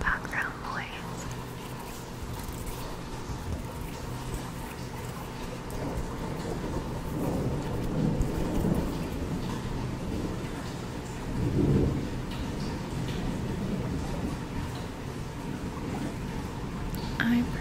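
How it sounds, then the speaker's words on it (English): Steady rain with low rumbles of thunder swelling around the middle and again later, a continuous close wash of noise with a soft voice murmuring over it. "I personally find the rain to be very relaxing in and of itself."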